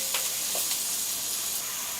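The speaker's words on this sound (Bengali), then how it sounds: "পেঁয়াজগুলোকে হালকা একটু ব্রাউন করে ভেজে নিতে হবে।" Chopped onions frying in oil in a pan, a steady bright sizzle with crackling pops and occasional stirring scrapes, close and continuous.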